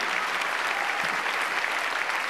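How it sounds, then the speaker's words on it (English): A theatre audience at a stand-up comedy show claps for a woman volunteer walking up onto the stage, a steady dense wash of applause with a faint murmur and no clear talk. "Give her a big round of applause coming up here"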